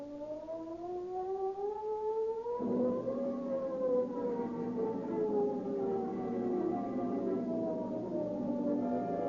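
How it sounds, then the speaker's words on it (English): San Quentin prison siren from a 1930s radio police drama, a loud rising and falling wail that swells and shifts pitch partway through and holds steady throughout, with no talk over it. "The ominous wail of the San Quentin siren is the call to arms"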